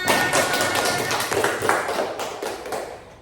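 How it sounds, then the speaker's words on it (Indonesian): Applause in a classroom, a group of students clapping hands with quick, dense, slightly uneven claps that hold strong and then gradually taper off. "Ayo beri tepuk tangan untuk kita semua."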